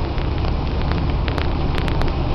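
Steady rain in Florianópolis, Brazil, heard from a moving car, a dense broadband wash of drops and road noise with occasional sharper patters, no talking.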